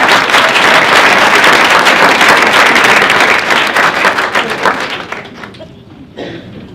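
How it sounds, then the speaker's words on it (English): An audience at a community Black History Month event gives loud, sustained applause that gradually thins and fades out over several seconds. "thank you, Dr. Bev, for giving another round of applause"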